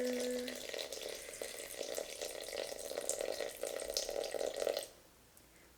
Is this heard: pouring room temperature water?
yes